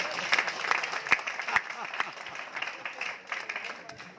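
An audience breaks into steady, sustained applause at a leadership training session, many hands clapping together in a dense, continuous patter with a few sharper claps standing out, and voices mingled in the background.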